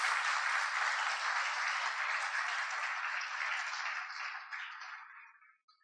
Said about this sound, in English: Let's give our Honorable Minister a very lusty round of applause.